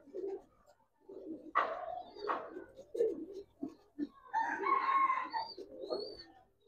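Giribaz pigeons of an old breed cooing in a loft, several close, soft bubbling coos overlapping in short bursts with brief pauses and a busier stretch near the end.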